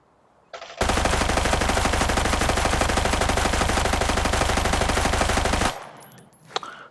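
RPK light machine gun with level 3 ammo firing at a shooting range in the video game Arena Breakout, one long sustained burst of rapid, loud, close shots lasting about five seconds, then stopping abruptly.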